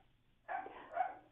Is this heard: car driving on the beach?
no